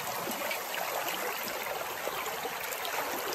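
Water rushes steadily and evenly through a gold sluice box loaded with shoveled tailings, giving a bright, continuous hiss with no voices.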